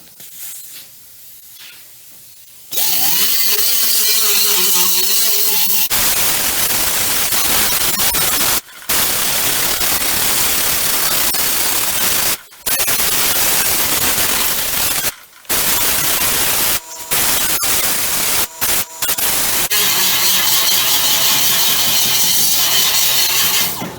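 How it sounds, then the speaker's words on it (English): A grinder runs loud and close as it strips body putty from a panel on a 1967 Camaro, making a harsh, steady hiss with several brief pauses. It winds up and down at each end, and no one speaks. "we're gonna grind some of this putty out of here to see what we're looking at on this panel"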